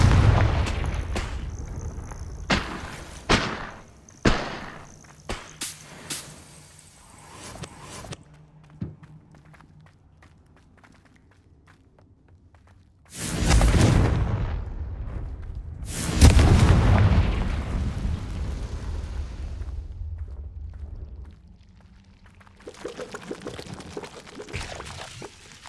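Confringo spells blast and explode in the Hogwarts Legacy video game: loud, broad roaring bursts with rumbling tails, set among scattered clicks and thumps of in-game movement.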